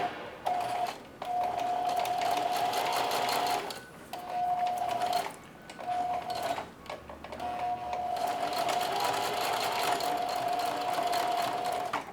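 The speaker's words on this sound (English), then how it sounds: "I'm going to bar tack this, zigzag forward and backward for the entire little length there" A sewing machine runs fast in several steady stretches with brief stops, whirring and clattering close by as it bar tacks a zigzag stitch forward and backward across apron straps.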